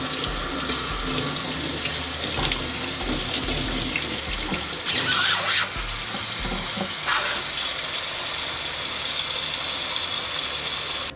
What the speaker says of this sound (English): cover it completely with some cold water.